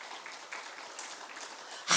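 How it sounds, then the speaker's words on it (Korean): A church congregation at a Sunday worship service claps together in praise, a soft, steady patter of many hands that swells into a louder burst at the very end. "그 놀라우신 하나님께 영광의 박수를 한번 올려드립시다."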